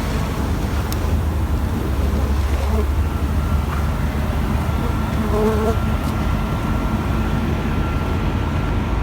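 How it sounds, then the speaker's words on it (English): Bees buzzing beneath a metal skip outdoors during a bee rescue, a low, continuous drone with faint higher hums, steady and fairly close, without any talking. "There's probably a lot of bees going underneath this metal skip."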